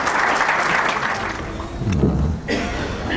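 A conference audience applauds, a dense steady patter of clapping that carries on throughout with a little murmuring mixed in.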